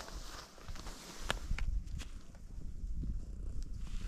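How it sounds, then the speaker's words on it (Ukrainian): A cat purring up close, a steady low rumble with some rustling and scuffling movement mixed in. "Він морчить і боїться, да?"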